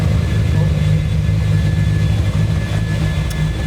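An 850 hp Nissan Skyline R34 GT-R V-Spec with an RB26 DET engine runs with a loud, steady low droning hum and tonal whine, sustained and close for a few seconds.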